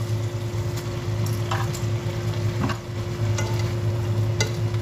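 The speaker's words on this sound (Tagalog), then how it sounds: "Then, lagay na po natin yung cabbage and celery." Cabbage and celery stir-fried in a hot pan for pancit bihon guisado, a steady sizzle with a few crisp scrapes of the spatula, close up, no talking.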